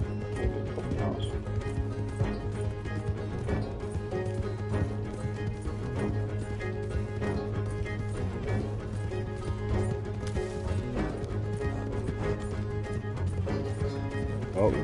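Horse hooves clip-clop rapidly in Red Dead Redemption 2 as a horse pulls a wagon during a chase, a steady driving rhythm under music and game noise throughout.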